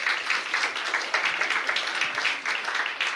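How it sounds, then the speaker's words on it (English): An audience gives a round of applause at a business event, dense steady clapping from many hands for a few seconds, fairly close and without voices. "Give him a round of applause."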